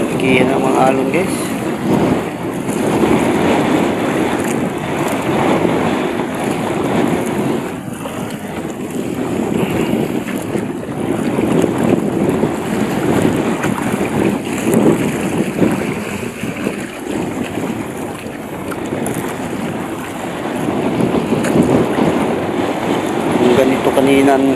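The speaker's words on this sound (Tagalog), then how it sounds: "Ngayon guys, oh, naglalakihan ng mga alon guys." Large sea waves surging around a small paddle boat in strong wind, a continuous close roar of water and gusting wind that swells and eases in uneven waves over its length.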